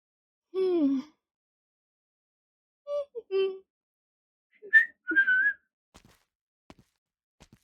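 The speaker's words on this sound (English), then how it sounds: "You thought I couldn't whistle." Someone whistles a tune in three short phrases separated by pauses, fairly quiet and close, in otherwise near silence.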